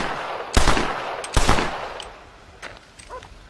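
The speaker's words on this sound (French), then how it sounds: "John perd patience et tire 3 coups de feu sur l'homme." Gunshots fired by John in the Red Dead Redemption video game, two sharp loud bangs about a second apart followed by a fainter third crack and quieter trailing sounds.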